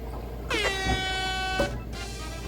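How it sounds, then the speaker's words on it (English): A video game air horn item gives one loud blaring blast of about a second, rising in pitch and then holding, over a quiet background hum. "I should have used the air horn anywhere else."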